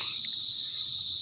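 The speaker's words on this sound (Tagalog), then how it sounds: "Yung po yung tinatawag na kuliglig" Crickets trill in a continuous, loud, high-pitched drone on a farm with many trees on a rainy afternoon, with faint background noise below.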